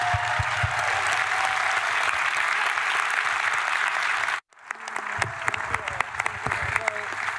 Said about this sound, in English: One more round of applause for our great panel